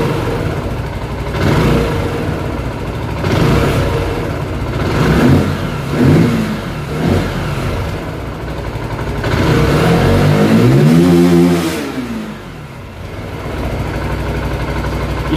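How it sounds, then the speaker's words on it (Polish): Zontes 125 motorcycle with a Bosch MSE6.0 controller, revved repeatedly at close range: several quick throttle blips, then one long climb to high RPM that falls back to idle. "Musi troszkę zagrzać, przygazujemy, zobaczymy, czy równo na obroty wchodzi."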